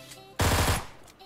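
Automatic gunfire in PUBG Mobile, a single loud burst of rapid shots lasting under half a second, close and alone against quiet game ambience.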